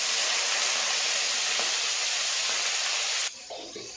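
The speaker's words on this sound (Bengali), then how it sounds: "আগে শুটকি মাছটাকে ভেজে নিচ্ছে।" Dried fish (shutki) frying with salt and turmeric in a pan, a loud, steady sizzling hiss that runs continuously before dropping away abruptly near the end, leaving faint clatter.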